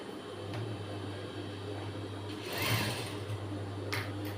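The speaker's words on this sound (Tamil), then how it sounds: "அதெல்லாம் விரிச்சு விட்டு தான் இப்ப தைக்க போறோம். மெதுவா தைக்கணும்." A sewing machine stitches a blouse, running in a steady continuous drone close up with a slight surge partway through, no talking.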